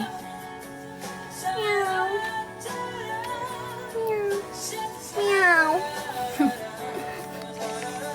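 A cat meows several times, drawn-out rising and falling cries, close and clear over a quiet background hum, ending in a short sharper mew.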